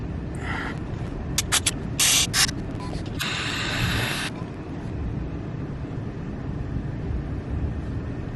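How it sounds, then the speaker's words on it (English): Several short hissing bursts of carb cleaner sprayed into the valve ports of a Honda Prelude H22 idle air control valve, then one longer sustained spray, over a steady low mechanical rumble; close and fairly loud. "let's just spray some carb cleaner"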